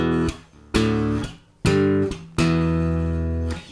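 Strummed three-note power chords on a bass guitar hammer out a riff in four loud, choppy bursts. Each chord is cut short by a brief gap and the sound is close and heavy with no talking.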